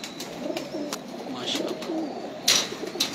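Pigeons at a fancier's loft coo in low rolling calls close by, with brief sharp clicks and rustles over the steady murmur of the flock.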